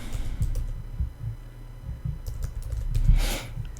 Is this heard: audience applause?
no